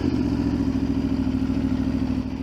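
Close up, a naked sport motorcycle with a full Akrapovic exhaust runs with a loud, gruff, pulsing engine note. The note swells slightly, then eases off, over a couple of seconds with no talk.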